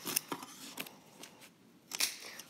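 Scissors trimming tufted yarn on a tufting piece, a series of quiet, close, crisp snips in an uneven rhythm, about six cuts with short pauses between.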